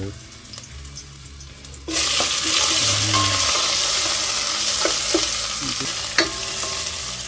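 Onions are sautéed in a pan, starting with a sudden loud sizzle that holds steady and close for several seconds, broken by occasional stirring clinks and scrapes.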